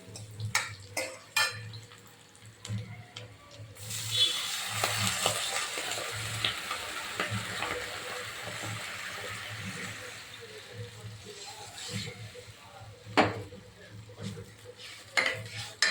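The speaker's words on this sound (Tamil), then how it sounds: "ஒரு செம்பு தண்ணி ஊற்றிக்கிடுவோம்" Water poured from a small vessel into a cooking pan of sautéed onion and carrot, a steady rushing hiss in the middle of the clip amid clinking utensils and stirring in a home kitchen.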